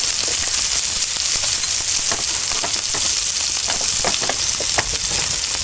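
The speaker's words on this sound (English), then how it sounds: "On the same skillet, add butter," Butter sizzles in a hot skillet just used for salmon, a dense steady crackle and spatter with scattered pops, close and continuous with no talking.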